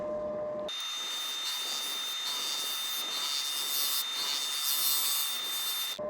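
A shear scraper works across a monkey puzzle wood urn on a lathe, a steady, close hissing scrape that runs continuously with slight swells in loudness, no voices over it.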